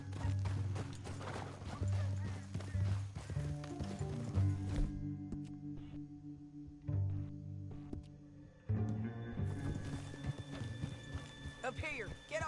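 Horse hooves clip-clop in a video game, with steady rhythmic hoofbeats that pause briefly and then resume, and voices talk over them.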